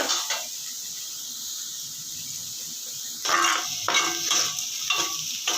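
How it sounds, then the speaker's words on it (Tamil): Vegetables for paniyaram sauté lightly in a pan, with a steady frying hiss at first, then a run of louder, rhythmic spatula scrapes and stirs in the final seconds. "கொஞ்சம் லைட்டாக அந்த பச்சை வாடை போகிற அளவுக்கு வதக்கினாலே போதும்"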